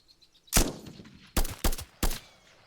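Rifle fire in the shooter game Eminus: four sharp, close gunshots, one single crack followed by a tight pair and then a last shot, each with a short echoing tail.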